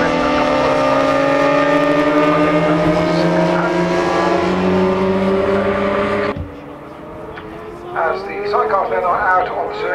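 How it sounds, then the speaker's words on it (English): Racing sidecars roaring around the Oulton Park circuit on a green flag lap, loud sustained engine whine rising in pitch, then a sharp drop as machines pass and fade, with a commentator talking over it. "sidecars then are out on the circuit, and this is for their green flag lap"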